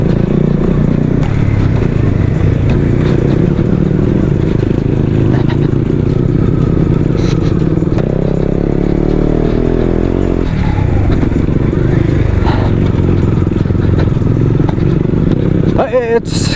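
A motorcycle, ridden by a motovlogger, rumbles loudly and continuously over a rough, bumpy road in Sikkim, with clattering and scraping from the bike throughout.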